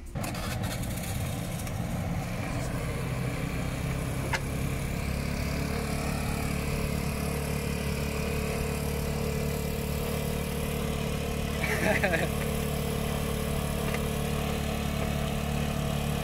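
A scooter engine in Laos runs at a steady idle throughout, a continuous mid-pitched putter with a brief rise in roughness near the end.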